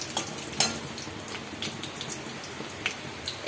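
Panch phoron spices crackle and sizzle in hot oil, a soft, steady frying hiss dotted with small pops and spits at close range.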